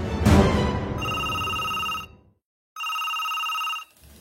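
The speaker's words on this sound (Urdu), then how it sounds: "اچانک فون کی گھنٹی بجی۔" A telephone rings in two long electronic bursts separated by a short pause, preceded by a brief rustling thump.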